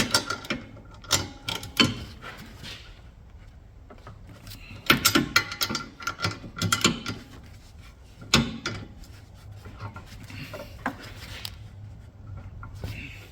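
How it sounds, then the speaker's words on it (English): A long ratchet tightening trailing arm bolts on a 2008 Pontiac G6, giving irregular bursts of close clicking and clunking metal with quiet gaps between strokes. "I'm using a pretty long ratchet to tighten them up."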